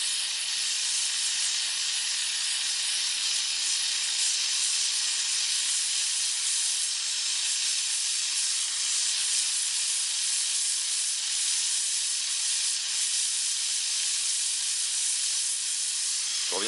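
A gas torch roars in a steady, unbroken hiss while heating the metal pieces and a coated brazing rod, close and even for the whole stretch.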